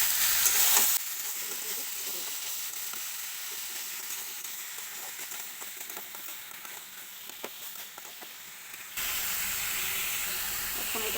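Sliced pointed gourd, cucumber and chili frying together in a pan, a steady close hiss and sizzle with scattered pops that shift in tone near the end.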